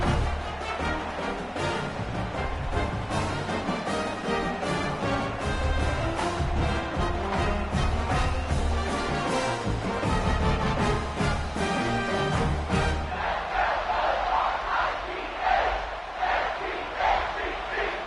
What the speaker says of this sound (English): these fans, they get something to cheer about with that first offensive possession